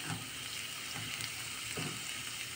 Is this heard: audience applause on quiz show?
no